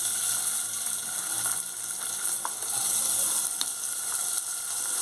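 Onions sizzle and crackle steadily in a hot pan, frying until brown, with occasional stirring clicks, close and continuous.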